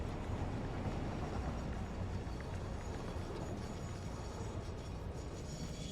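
A train rolling along in the Satisfactory video game, a steady, continuous low rumble of wheels and carriage noise that stays close and even throughout, with no voices over it.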